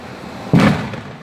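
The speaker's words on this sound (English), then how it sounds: "Anybody playing with fireworks?" A single firework bursts nearby with a sharp pop and a brief rumbling tail, standing out against quiet outdoor background.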